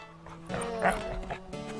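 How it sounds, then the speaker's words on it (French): A pet dog gives a few short yips and whimpering barks close by in a quiet room, with brief pauses between them. "T'es un gentil toutou, mon chien."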